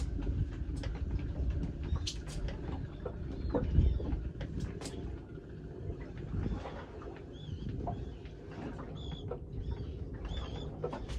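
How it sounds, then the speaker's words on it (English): Birds call around a small fishing boat at sea off the UK during lure fishing for bass and mackerel; short high cries come and go over a steady rumble of engine, wind and water. "There's plenty of activity around with birds"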